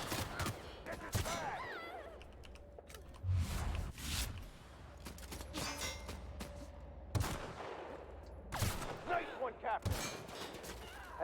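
Gunfire in The Outer Worlds, scattered shots and short volleys at moderate loudness, mixed with muffled voices and game ambience between the bursts.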